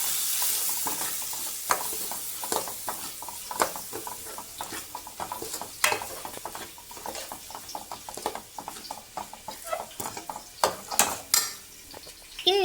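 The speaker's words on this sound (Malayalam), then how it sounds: "ഇത് നന്നായിട്ട് ഇളക്കി യോജിപ്പിക്കാം" Chili powder is stirred into a prawn biryani masala in a pan, with repeated close scraping and clinking spoon strokes over a soft, steady sizzle.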